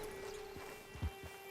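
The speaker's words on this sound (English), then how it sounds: "Get on the horse there." Horse hooves in Red Dead Redemption 2, a few slow, soft clip-clop steps over a steady low hum, fairly quiet and close.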